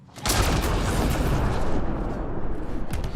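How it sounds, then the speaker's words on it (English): Loud, sustained explosion and battle din from Mass Effect Andromeda gameplay, a dense roaring rumble with crackling debris that swells at the start and holds for about three seconds. "that explosion is crazy good"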